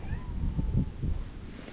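A cat meows a couple of short, soft calls close by, over a low background hum.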